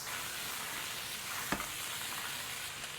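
Chicken wings sizzle and crackle steadily in hot lard with fried scallions, with a single brief clack of a utensil midway.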